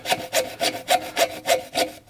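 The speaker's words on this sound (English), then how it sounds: "lay your little hacksaw, kind of lay it flat on the place you want to cut" A small hacksaw cuts with quick, even back-and-forth strokes, about seven crisp rasping passes in two seconds, close and loud with no talk.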